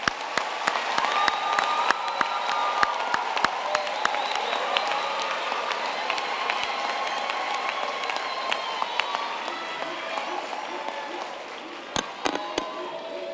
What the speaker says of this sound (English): I think we should give them all a hand of applause again.